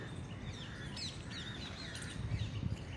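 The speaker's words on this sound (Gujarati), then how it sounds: "પક્ષીઓના અવાજને સાંભળશો।" Faint birds chirp and call outdoors, with several short, thin tweets over a soft, steady background hush and some low rumbling near the end. No voices are heard.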